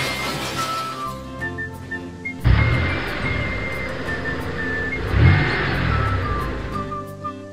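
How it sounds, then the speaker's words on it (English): Cartoon cars roll along a wet road with a steady motor whine, a loud splash-like burst near 2.5 s and another swell around 5 s, with faint music-like tones above; no talking. "Four little cars quickly drive along the road."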